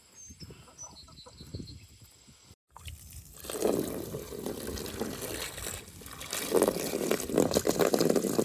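Water pours steadily with a splashing, hissing rush while chickens cluck softly nearby, the flow growing louder and fuller after a brief pause.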